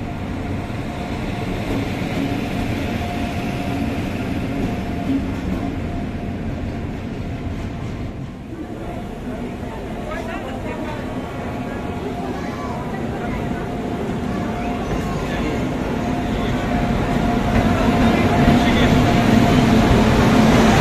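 Meerut City to Lucknow Vande Bharat Express, train number 22490, rumbles past with a continuous deep rolling roar that swells louder toward the end, heard from nearby amid background noise.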